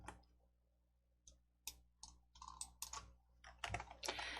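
Computer mouse and keyboard clicks while working in Entry coding software: sparse, sharp, close taps that grow quicker and denser toward the end, quiet and alone without talk.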